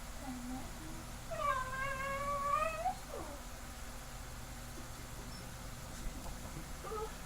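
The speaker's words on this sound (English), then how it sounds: "Dog sounds like a cat." A dog making cat-like sounds, a drawn-out rising-and-falling meow-like whine heard once, fairly close against a quiet indoor background.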